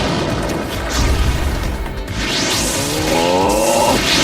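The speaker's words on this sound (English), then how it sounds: "Fire style. Fireball." A fireball jutsu in Naruto Storm 3 erupts with a heavy booming whoosh and crackling burst, a roaring blast that swells and trails off, followed by a sweeping swish near the end.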